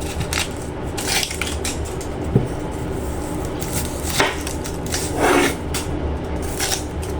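A kitchen knife slices a large white onion on a cutting board, making repeated close, soft thuds and crunches at an uneven rhythm over a steady background hiss.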